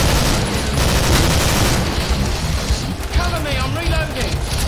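A SCAR rifle fires fully automatic in the zombie shooter Killing Floor, loud and close in sustained rapid bursts, with a voice talking partway through.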